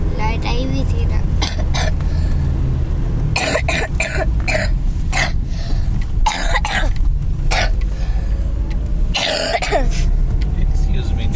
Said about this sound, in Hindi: मुझे ना बीच में ही खांसी आ जाती है